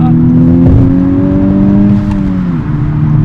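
A 2021 Honda Civic Type R on the stock tune revs steadily, its engine note holding briefly before easing down with slight rev hang, loud and close from inside the cabin.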